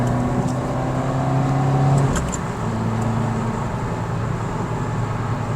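A 2015 Subaru WRX pulls hard along a highway, its steady engine drone climbing in pitch before a brief shift and then settling into a constant road roar, with no talking.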